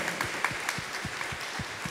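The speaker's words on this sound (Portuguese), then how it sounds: "Salve de palmas" A church congregation at a Catholic priest's gathering claps in a fairly regular, rhythmic pattern, the claps soft and somewhat distant with a low thump on each beat.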